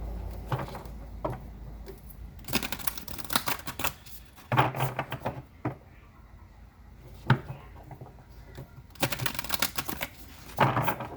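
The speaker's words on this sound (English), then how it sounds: "Okay, one more shuffle." Cards are shuffled in repeated crisp riffling bursts, close by, separated by short pauses and lighter handling clicks.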